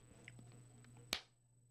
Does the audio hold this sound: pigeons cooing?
no